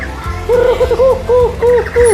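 A zebra dove coos in a repeated soft, rounded rhythm, several close phrases in quick succession against faint background noise.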